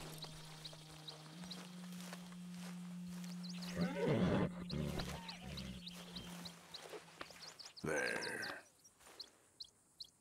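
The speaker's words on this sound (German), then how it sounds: "So ein braves Pferd." A horse in Red Dead Redemption 2 lets out a loud whinny and then a second neigh a few seconds later, with bird chirps and faint hoof sounds in the game ambience.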